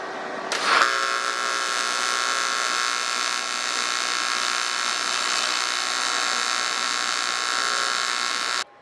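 Rivets being welded on an aluminum-style fuel tank inside the wing of a Bearhawk experimental airplane build: a small pop, then a steady, close, buzzing arc hiss held for about eight seconds before it cuts off, with no voices.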